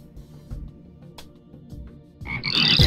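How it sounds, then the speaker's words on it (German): Frogs croaking in the video game Shellshock Live: repeated low croaks sounding together, loud and close, building to a denser, brighter burst at the end. "Los, meine Frösche!"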